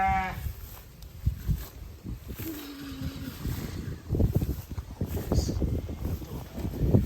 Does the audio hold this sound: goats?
yes